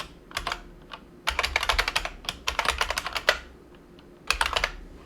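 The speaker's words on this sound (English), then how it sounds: "what we're going to type in here is Windows Update" Fingers tap out a short phrase on a computer keyboard in quick clustered keystrokes, with brief pauses between words. The clicks are close and crisp in an otherwise quiet room, with no talking.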